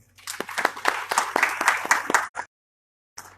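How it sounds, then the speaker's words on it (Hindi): Audience clapping at a gathering, distinct claps building into a moderately loud round that cuts off abruptly, followed by silence and a faint final sound. "सब लोग तालियां मारेंगे।"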